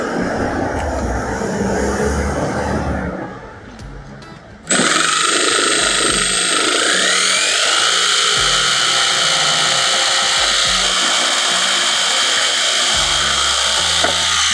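A jigsaw roars through a wooden roof beam of a flat-roof shelter, pausing briefly before resuming a loud, steady, buzzing cut that runs continuously to the end.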